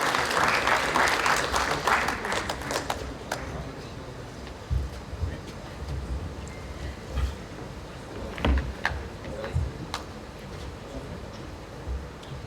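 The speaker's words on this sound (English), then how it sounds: "Applause for Maria I.O." At a Startup Weekend event in Varna in 2015, a crowd applauds the winning startup team with a brief burst of clapping that dies away quickly, giving way to talking, stage bumps and scattered knocks.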